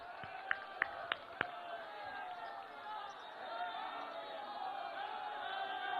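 A crowd at a BJP rally welcomes Amit Shah with a steady, distant roar of applause and cheering that swells slightly toward the end, with a few sharp clicks at the start.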